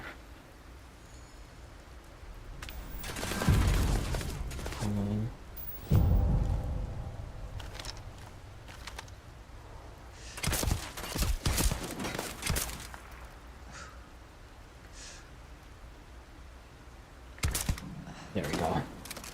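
Gunfire in the video game Starfield: sharp scattered shots and short bursts, some loud and close, others fainter, spread irregularly through the clip with a person talking between them.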